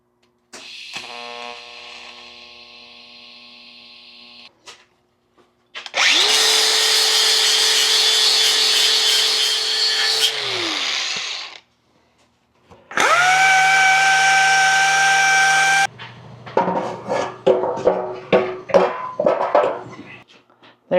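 A power tool whines in sustained bursts as it cuts into the front of a steel motorcycle fuel tank on an FXR, with three long loud runs separated by pauses and rougher stuttering grinding toward the end.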